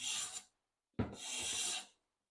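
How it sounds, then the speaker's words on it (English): A sharpened hand plane takes fine wood shavings in two strokes, each a bright rasping hiss that starts with a sharp bite and then runs steadily, separated by a brief silence. "You're making super fine shavings."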